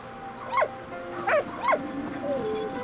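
Dog in the video game Valiant Hearts gives three short whimpering yips spaced about half a second apart, then a softer drawn-out whine, fairly close with no talk.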